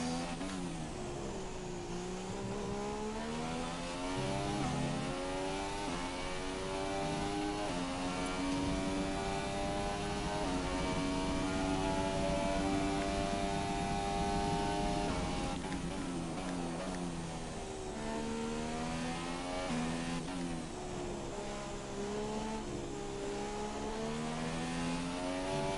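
An F1 car in the F1 2017 racing game runs at full throttle, its high-pitched engine climbing through the gears in long rising sweeps with brief dips at each upshift, loud and continuous, with no talking.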